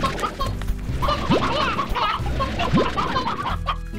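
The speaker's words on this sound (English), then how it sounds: "Okay, we're gonna grab some chickens." Chickens in the video game Slime Rancher cluck in quick, choppy bursts, joined by a couple of short rising whistle-like game effects. The clucking is loud and close and carries on throughout.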